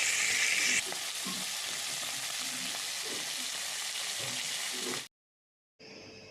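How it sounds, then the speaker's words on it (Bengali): A rohu or silver carp fish head frying slowly over low gas in a pan with whole chillies, a steady close sizzle that cuts off abruptly and then resumes briefly. "তো এই মুড়ো ভাজতেই অনেকক্ষণ সময় লেগে যাচ্ছে"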